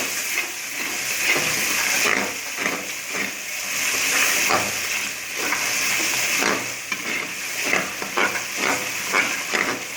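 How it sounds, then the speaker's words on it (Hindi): Tomato paste fries in a pan with sautéed ginger and garlic, giving a steady close sizzle broken by repeated scraping stirs. "तो अब मैं इसमें शामिल करूंगी अपना टमाटर का पेस्ट"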